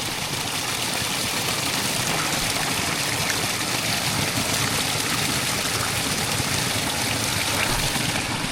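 Steady, close rushing of a small mountain stream on a freezing winter snow wildcamp, broadband water noise running continuously and evenly throughout with no talk.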